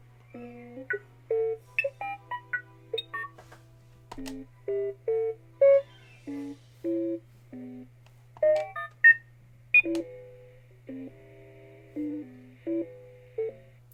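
A custom R-unit astromech droid toy with a personality chip plays slow, sparse sequences of short electronic beeps and warbling tones at varying pitches. The tones sit over a steady low hum, and no one speaks.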